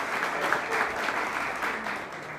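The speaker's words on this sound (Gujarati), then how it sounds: "એવા સંજયભાઈ માટે જોરદાર તાળીઓ બજાવો।" An audience at a Jain community ceremony honouring ascetics applauds warmly, a dense sustained patter of many hands clapping at moderate distance, with no speech over it.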